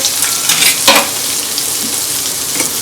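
A spoonful of ginger, garlic, chili and coriander paste fries loudly in hot oil for soybean masala rice, a dense close crackling hiss with a brief stir-scrape in the middle.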